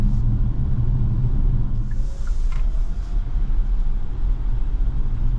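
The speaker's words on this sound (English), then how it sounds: "we got a little engine turn on right there as I pushed down a little bit too hard on the pedal" Petrol engine of a 2023 Hyundai Tucson PHEV Limited AWD starting up while driving: a steady low rumble from inside the cabin with a faint rise partway through, no talking.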